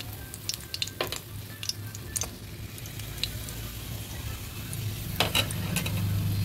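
Pointed gourd pieces frying in oil, a steady sizzle with intermittent clinks and scraping of a utensil against the pan, close and moderately loud, no voices.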